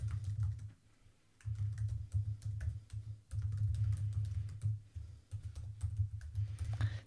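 Typing text on a computer keyboard, with quick close bursts of key clicks broken by short pauses, alone without speech.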